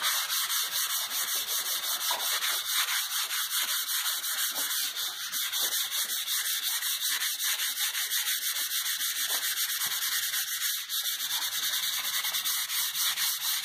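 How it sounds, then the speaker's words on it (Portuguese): Hand sanding of painted wall with 150-grit sandpaper, a steady loud raspy scraping that runs continuously with quick back-and-forth strokes and only brief pauses, no talking. "Vai pegar uma lixa, o certo é você usar uma lixa 120, estou usando a lixa 150 aqui"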